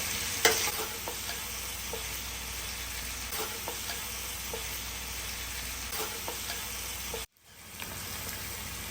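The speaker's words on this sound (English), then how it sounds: "I think we did a good job rotating the potatoes in the pan" Potatoes and onions sizzle steadily while frying in a skillet, with scattered scrapes and knocks of stirring across the pan, a brief drop to near silence partway through, then the loud frying resumes.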